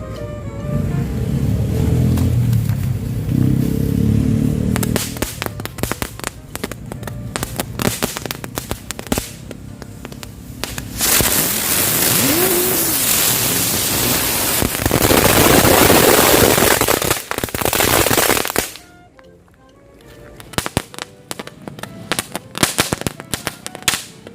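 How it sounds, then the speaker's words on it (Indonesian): A colored spinning wheel firecracker: a long string of rapid crackles and pops with bursts of hissing sparks, loud and close, ending in a short lull with scattered pops. "Itu dia mercon roda warna."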